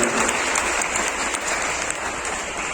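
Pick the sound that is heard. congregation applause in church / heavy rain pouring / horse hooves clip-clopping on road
congregation applause in church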